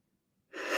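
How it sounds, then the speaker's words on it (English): A single sharp sneeze bursts out after silence, close and loud, with a breathy intake leading into it. "sneezing, sorry."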